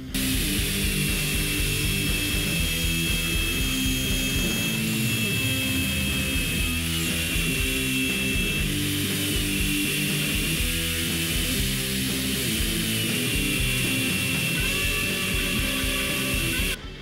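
A power tool runs continuously while cutting out a steel knife blank in a knife-making shop, a loud, steady grinding whine with harsh buzzing that holds for the whole stretch without pause.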